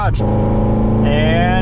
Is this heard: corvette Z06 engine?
yes